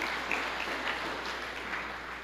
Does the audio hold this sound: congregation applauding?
yes